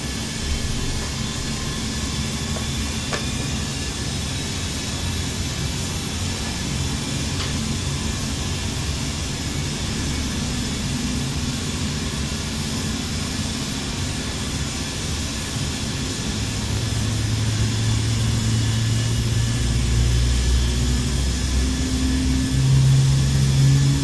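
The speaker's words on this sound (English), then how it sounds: "we've got a good start in engine 2, starting engine 1" Boeing 777-300ER jet engines spool up in a flight simulator game, a steady, loud broadband roar with a low hum that rises in level and pitch over the last several seconds as an engine start builds.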